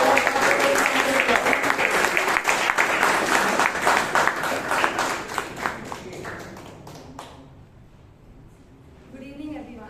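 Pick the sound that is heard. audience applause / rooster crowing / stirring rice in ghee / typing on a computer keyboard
audience applause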